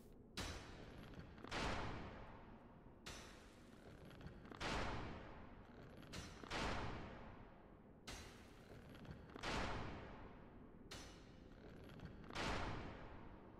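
Repeated sharp impacts in Dark Souls' Anor Londo as an enemy archer keeps shooting arrows at the player, several loud bursts arriving every couple of seconds, each decaying into a long rumbling tail.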